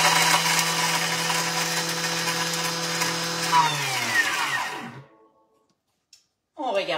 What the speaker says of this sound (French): Et on commence 4 secondes à mélanger le tout. Youp, vitesse 10.